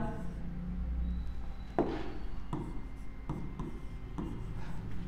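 Marker strokes squeak and scratch across a board in short bursts, several separate strokes over a few seconds, close by, with a constant low room hum underneath and no talking.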